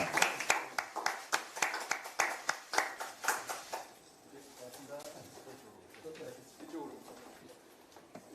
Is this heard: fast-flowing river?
no